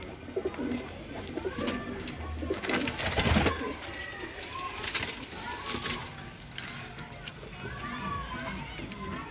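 Sharanpuri breed pigeons coo softly in repeated low rolling calls, with children's voices and chatter in the background throughout.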